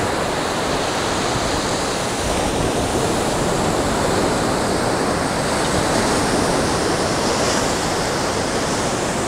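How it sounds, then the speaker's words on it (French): Surf rolls steadily onto an empty beach in overcast weather, a loud, continuous wash of breaking waves with no voices over it. "Je vous filme un peu la plage. C'est vide, hein. Belle plage."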